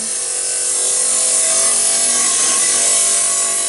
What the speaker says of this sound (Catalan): Aquí un petit detall de com ho estic fent amb la radial, amb la petita radial